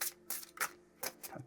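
A deck of tarot cards being cut, heard as a few short papery riffling and slapping bursts close by, with quiet pauses between them.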